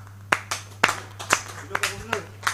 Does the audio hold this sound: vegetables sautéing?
no